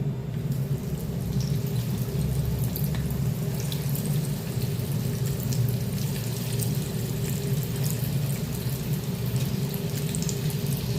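Fritters of fresh small shrimp (jawla), made Agri style, sizzling in hot oil, a steady dense bubbling and crackling that runs on evenly and close throughout, with no talking.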